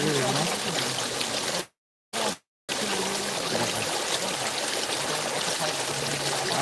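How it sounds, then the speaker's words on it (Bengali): Rainwater rushes fast into a street drain during a downpour, a steady broadband gushing that fills the whole stretch and cuts out briefly twice; faint voices sit underneath. "দেখো জল স্পিডটা দেখো এই জায়গাতে ওই যে ড্রেনের তো জল যাচ্ছে"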